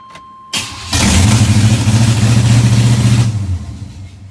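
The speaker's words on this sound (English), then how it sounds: "Truck is running again." A 2-door Chevrolet Tahoe's engine cranks briefly, fires up loud and close, and runs at a rough idle for a few seconds before dropping back.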